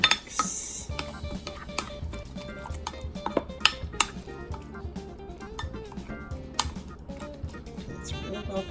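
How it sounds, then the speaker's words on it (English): Utensil clinks and scrapes against a bowl while shredded mozzarella and eggs are mixed, a quick irregular run of small clatters and taps at close range with no voices. "We are just going to combine the shredded mozzarella and the eggs or egg substitute, and we're just going to mix."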